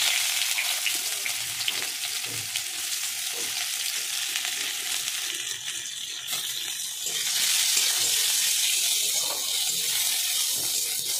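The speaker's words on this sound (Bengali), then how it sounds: "এবার পেঁয়াজটাকে ভালো করে ভেজে নেবো" Chopped onions frying in hot oil with black nigella seeds, a steady broadband sizzle running the whole time with a brighter, louder stretch in the second half, suggesting stirring or fresh moisture hitting the pan.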